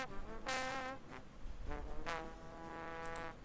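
The isolated left horn part from the horn section of a song plays alone. It sounds a few sustained brass notes and short phrases with clear, reedy overtones and quiet gaps between them.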